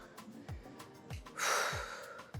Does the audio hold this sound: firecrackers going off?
no